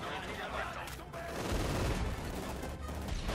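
Battlefield gunfire in Company of Heroes 2, a dense continuous rattle of rifle and machine-gun shots with rumbling low blasts, loud and unbroken for the few seconds.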